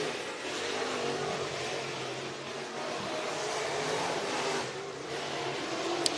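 Race cars accelerate around Sugar Creek Raceway in a steady, moderately distant engine drone. The note rises and falls slightly as the cars move around the track, with a small sharp click at the very end.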